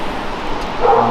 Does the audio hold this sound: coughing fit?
no